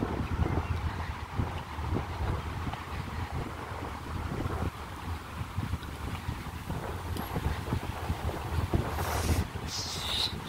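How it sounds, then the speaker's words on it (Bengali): Strong gusts of wind rush continuously through tree leaves on a cool, rainy summer day in Germany, a loud, steady roar with broadband rustling and brief brighter hisses near the end. "শব্দ শুনে বুঝতে পারতেছেন কিরকম বাতাস।"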